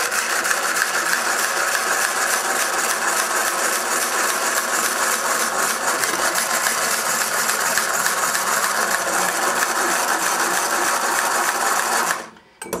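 An old mechanical whisk, a wedding present in use for 47.5 years with a knob missing, beats lemon meringue with a steady, loud, rattling whir. It runs without a break for about twelve seconds, then cuts off abruptly.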